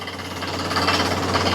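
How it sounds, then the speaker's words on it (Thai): A large well-drilling machine running, a dense continuous mechanical rattle and engine drone with a steady low hum, close and loud throughout. "เครื่องเจาะใหญ่แบบนี้นะ"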